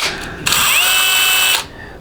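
A handheld power drill spins a reamer in the pressure regulator valve bore of a 4L60E transmission pump, a loud steady whine lasting about a second after a brief start-up, then spinning down.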